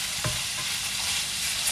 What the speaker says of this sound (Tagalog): Stir fry meat beef.